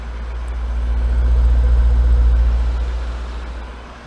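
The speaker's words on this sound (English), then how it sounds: "I'm going to take you around the back so you can listen to the exhaust." Exhaust from a running Jaguar XKR hums in a deep, pulsing drone right at the tailpipe, rising slightly then easing off.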